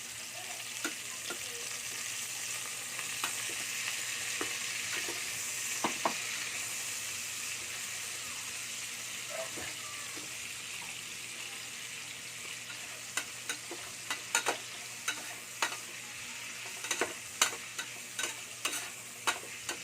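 Corned beef stir-fried in a pan for chop suey gives a steady broadband sizzle, with sharp spatula clicks and scrapes that come more often toward the end, close and fairly loud, and no talking.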